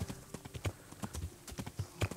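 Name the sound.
horse hooves while riding, video game Kingdom Come: Deliverance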